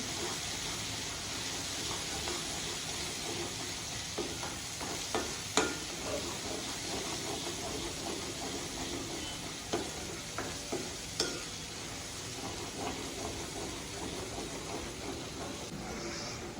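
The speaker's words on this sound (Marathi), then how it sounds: "हे आपण मस्त मिक्स करून घेऊ" Spiced masala for stuffed brinjal stirred in a pan, a soft continuous scraping and faint sizzle with scattered light clinks of the spoon against the metal, close and quiet, with no talking.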